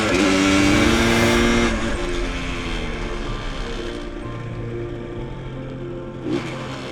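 Vintage AMF-era Harley-Davidson motorcycle engine running steadily, a loud continuous rumble with strong harmonics that eases slightly after the first couple of seconds and stays close and prominent throughout, with no talking.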